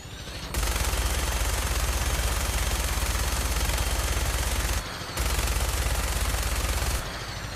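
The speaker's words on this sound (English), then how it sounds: "That minigun in front of you is loaded and ready to fire." A helicopter-mounted minigun in Fallout 4 fires a loud, continuous buzzing stream of rapid shots, broken by one short pause before a second long burst, then spinning down.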